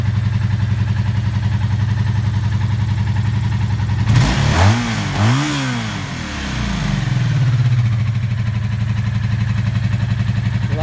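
A 1984 Honda V65 Magna VF1100C barn-find motorcycle idling steadily with a low, even rumble, briefly blipped into a clattery rev midway before settling back to idle, close and alone.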